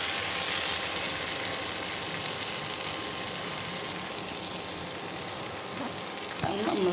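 Beef fries in a pan with black pepper and fennel powder, giving a steady, hissing sizzle that runs throughout, with a brief stirring clatter near the end.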